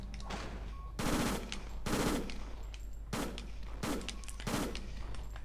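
Video game gunfire in Fighting Force 2, rapid bursts of automatic shots in about five roughly evenly spaced volleys of around half a second each, loud against a low steady hum of game sound, with no talking.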